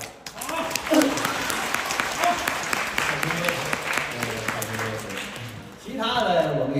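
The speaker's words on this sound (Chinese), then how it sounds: "可以鼓掌了。" Audience applause at a live Deyun Society xiangsheng crosstalk comedy show in Changchun, a steady wash of clapping from a large crowd lasting throughout, swelling again near the end, with a performer's voice over it.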